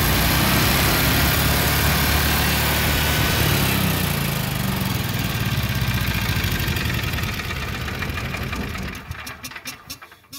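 A Generac generator engine running loud and close during a speed ramping adjustment, revving hard with a steady roar before it hits overspeed shutdown and winds down to a sputtering stop.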